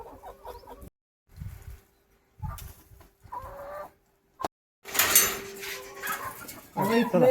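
Egg-laying hens, some sick, cluck and squawk nearby in short bursts, broken by silent gaps, with a louder flurry of clucking toward the end.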